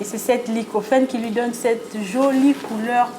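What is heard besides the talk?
No distinct noise like a dog, phone or traffic.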